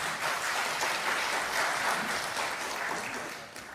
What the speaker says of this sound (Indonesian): Kita kasih tepuk tangan untuk Pak Hariponto.